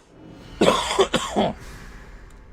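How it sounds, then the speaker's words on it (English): A short burst of harsh coughs, two or three close together, followed by a faint throat noise, near and fairly loud. "this cough is annoying"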